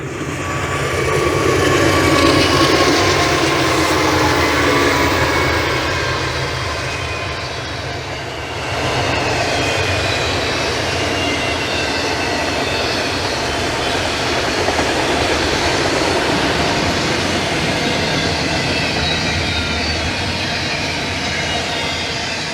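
A train rolls past on railroad tracks in use since 1904, a loud, continuous rumbling roar that swells early, dips briefly, then carries on steadily for over twenty seconds.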